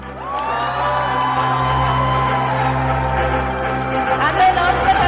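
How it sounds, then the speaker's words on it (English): A pageant crowd cheers and applauds steadily at the Miss Meghalaya and Miss Teen 2024 crowning, the loud roar of voices and whoops sustained throughout with a few brighter shouts near the end. "Can we please have the applause continue?"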